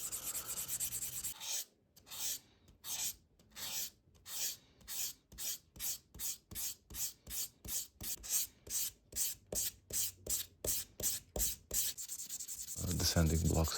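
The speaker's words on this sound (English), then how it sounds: "you sand it and just see if the scratches are gone" Hand sanding of a scratched Tissot watch case with a sanding block, about twenty even back-and-forth rasping strokes in a steady rhythm, close and crisp, between quieter handling noise at the start and end.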